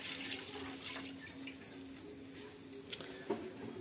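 Strained mustard-paste water poured into a pan of spices while cooking Shorshe Ilish, a steady close splashing and trickling stream running throughout with small splashes toward the end.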